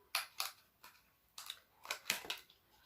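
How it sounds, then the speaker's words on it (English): Scissors snip at strip-eyelash packaging in about seven short, crisp cuts, close and fairly quiet, spaced unevenly with brief gaps. "I gotta use these scissors."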